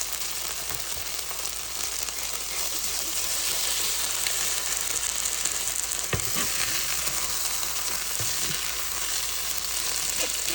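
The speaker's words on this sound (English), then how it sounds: "the pan is getting too hot, and it's cooking the cheese" A quesadilla cooks in an overheated pan, the cheese frying with a loud, steady sizzle and crackle that runs unbroken, with a few scraping stirs from a utensil partway through.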